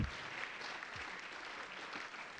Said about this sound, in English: How about some applause for Chad?